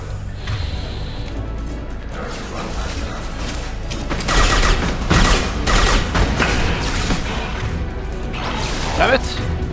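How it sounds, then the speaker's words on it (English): An impact shot fired in Mass Effect 2 combat, whooshing and crashing bursts amid rapid weapon fire and mechanical clatter, with someone talking over the action. "Fire an impact shot!"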